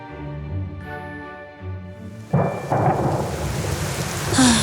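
Thunder rumbles through a thunderstorm with heavy rain building, low rolling booms giving way to a loud, steady downpour that swells toward the end.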